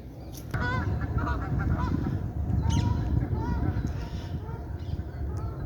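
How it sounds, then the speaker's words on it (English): Two geese honk repeatedly at each other in a squabble beside a lake, with overlapping harsh calls over steady outdoor background noise and faint voices. "Two geese having a bit of a row."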